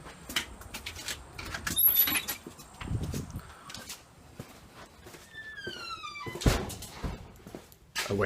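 Several thuds and knocks of a storage unit door being handled, with scattered clunks and a brief squeaky slide, under quiet room noise.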